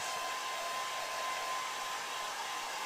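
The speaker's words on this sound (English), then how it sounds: "we use a good old Morphy Richards as central air dryer and dry it off" A Morphy Richards hair dryer blows steadily, a constant close airy whoosh with a faint motor hum, unbroken for the whole stretch and with no talk.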